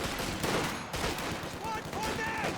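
Machine gun fire in the WWII strategy game Company of Heroes 2, dense crackling bursts running continuously across the moment amid a busy battle mix, with whistling tones layered on top.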